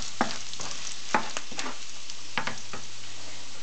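Food being stirred in a pan, with several distinct scraping knocks of a utensil spread irregularly over a soft, steady sizzle, close and fairly clear.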